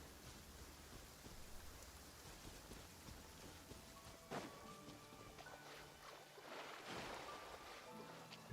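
Soft rain falls in a Genshin Impact game scene in the Fontaine region, a faint steady hiss with a few louder splashy bursts and a sharp click at the very end.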